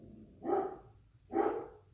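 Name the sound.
dog barking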